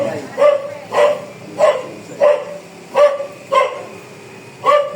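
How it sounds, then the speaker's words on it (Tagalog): A dog barks in a steady rhythm, about seven evenly spaced barks over five seconds, at moderate distance on a quiet countryside estate. "Yung aso."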